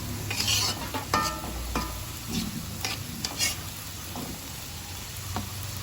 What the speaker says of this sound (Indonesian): Lalu ini aku goreng bawang merahnya dulu ya teman-teman.